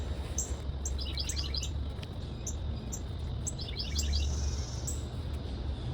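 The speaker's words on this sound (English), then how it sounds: "there is a lot of bird activity back here right now. There's lots of chirping." Several birds chirp in quick bursts of high tweets, repeating every second or so over a constant low background hum.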